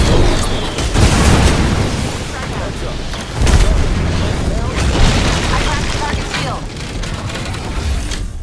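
Frag grenade explosions in the Apex Legends video game: loud booming blasts with heavy low rumble, one near the start and another around the midpoint, over continuous game noise and gunfire.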